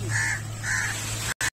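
A crow caws near a mango tree, two loud close harsh calls in quick succession followed by a shorter third, over a low steady background hum.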